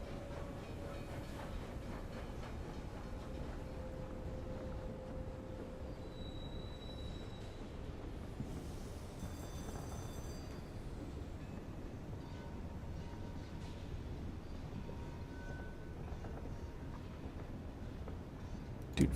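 A locomotive from the game Sunless Skies runs with a steady, loud rumble. The rumble has a faint clattering, rail-like texture and a few thin tonal whines that rise over it. No one speaks.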